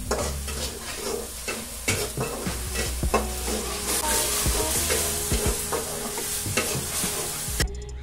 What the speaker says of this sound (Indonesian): Ini ditumis sampai benar-benar matang ya guys ya